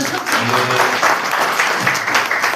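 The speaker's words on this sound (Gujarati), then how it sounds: "બધા એક જોરદાર તાળીઓ આપો બેનને" An audience at a book launch event claps for the author, a dense burst of applause lasting a few seconds with some low voices mixed in.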